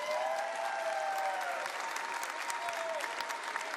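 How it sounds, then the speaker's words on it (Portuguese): A church congregation applauds warmly, a thick steady wash of many hands clapping with faint voices and whoops mixed in, loud and continuous throughout. "Pode aplaudir, aplauda de verdade."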